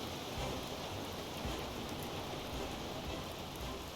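Heavy rain pours down steadily in a U-boat naval war game, a dense, constant hiss of downpour with low rumbling texture, loud and unbroken throughout with no voices.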